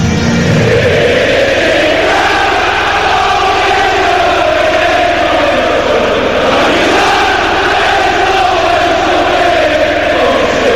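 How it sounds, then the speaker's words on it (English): Loud, continuous roar of a capacity home crowd at a Nottingham Forest Premier League night match against Newcastle United, a dense wall of chanting and cheering that swells and dips without a break. "great noise as ever from those home supporters"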